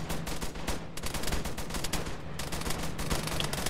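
Squads in the video game Arma 3 open fire in a Sweden vs Finland team battle, dense overlapping rifle and machine-gun bursts crackling without pause, some shots close and sharp while others sound more distant.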